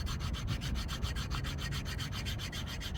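New brake pads for a 2019 Ford Escape are rubbed together, making a quick, steady back-and-forth scraping rasp of about five strokes per second, close and fairly quiet, with no talking.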